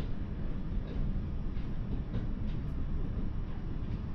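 A steady rumbling roar of an intercity train moving at close to 160 kilometers per hour, continuous and even, heard from inside a first-class car with no talking.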